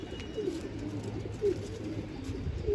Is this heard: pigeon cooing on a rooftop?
yes